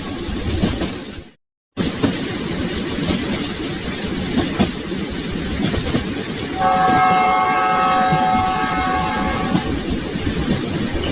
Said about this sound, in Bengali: ট্রেনটি নিজ গতিতে ছুটে চলেছে তার গন্তব্যের দিকে।